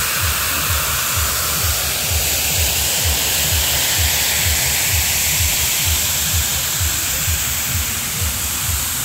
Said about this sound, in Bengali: দেখতে পাচ্ছ কি সুন্দর ঝর্ণা,